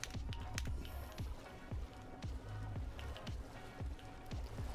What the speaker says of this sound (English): I forgot how loud the water noises are